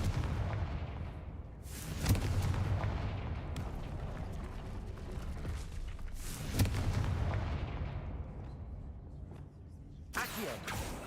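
Confringo blasting spells from Hogwarts Legacy go off as heavy booming explosions, with three big blasts at wide intervals, each trailing into a rumbling roar, loud and close throughout.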